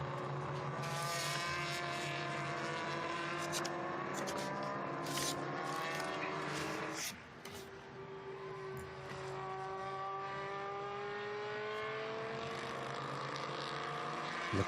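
Historic race cars roar around the Estoril circuit in a classic racing event, a continuous loud engine drone with rising and falling pitch as cars pass, one car fading and another taking over midway, no voices.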